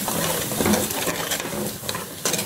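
A spoon stirs fried rice ada coated in jaggery syrup in a pan, giving a steady close sizzling, scraping stir with a hissing bed throughout.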